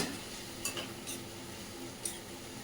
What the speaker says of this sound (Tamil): இஞ்சி பூண்டு வெங்காயம் இது எல்லாமே நல்லா ஒன்று சேர்ந்து கலறி விடுங்க